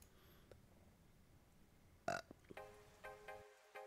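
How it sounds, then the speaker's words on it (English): A single burp from a person during a relaxed, chatty Pokémon game session: one short, fairly clear belch in a quiet room, followed by a few faint rustles. "I have to burp."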